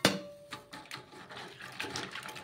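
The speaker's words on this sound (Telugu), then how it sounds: "ఇలా వేపుకున్న వాటిని ఇప్పుడు వాటర్లో అయితే బాగా కడుక్కోవాలి." Fried dried fish is washed in water, with faint, close splashing and sloshing.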